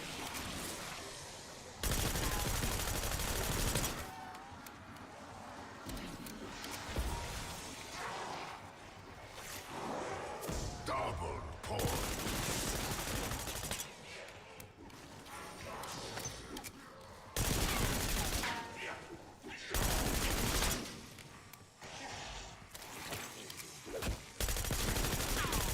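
Video game gunfire crackles in repeated bursts, several loud sustained volleys of rapid fire separated by quieter stretches of scattered shots and background noise.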